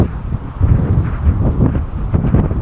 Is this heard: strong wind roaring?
yes